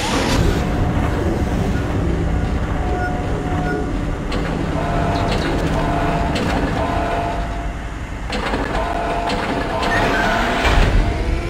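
A tram rumbles and clatters along its tracks in the video game Dead Space, a continuous mechanical rolling roar with metallic clanks and bursts of noise, loud and steady throughout with no talking.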